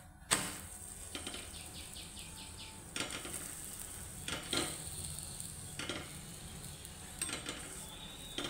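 Flatbread (poli) roasts on a hot pan, with a soft continuous sizzle broken by occasional scrapes and light taps of a utensil turning and pressing the bread, fairly quiet and close.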